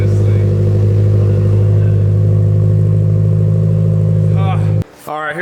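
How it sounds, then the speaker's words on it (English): A Subaru car engine, running again after a month, idles loudly and steadily with a deep rumble, then cuts off abruptly near the end, leaving brief quiet with faint sounds. "At least the engine runs."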